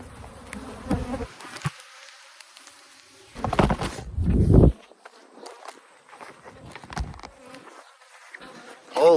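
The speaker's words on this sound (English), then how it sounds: "These bees are fucking everywhere." An aggressive swarm of bees during a honey harvest, buzzing faintly in the background around footsteps and bursts of handling noise, with a loud, close thump in the middle.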